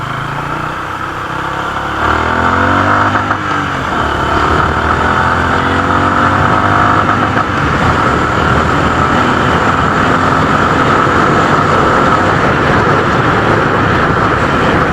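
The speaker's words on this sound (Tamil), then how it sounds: "ஸோ நம்ம இப்போது 5வது கியரில் போட்டோம். நான் இப்போ ஒரு 80ல் நான் இப்போ க்ரூஸ் பண்ணுறேன்." A Honda CB350 H'ness motorcycle fitted with Powerline headers cruises in fifth gear at about 80, its loud, steady engine and exhaust drone rising as it accelerates early on, with wind rush throughout.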